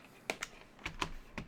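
A computer keyboard is lifted and set back down on a desk, producing a few separate clacks and knocks, with a heavier thud near the middle, close and fairly quiet, with no voices.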